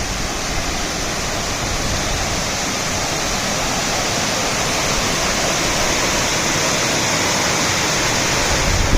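Dudhsagar Waterfall roars loud and constant from nearby, a broad unbroken rush of falling water heard on a trek to its top, with no voices over it.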